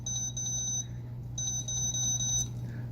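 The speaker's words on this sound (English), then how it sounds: "Some sort of beeping noise." Repeated electronic beeps from a cheap battery-powered toy phone, coming in two bursts with a short gap, steady and fairly close over a low background hum.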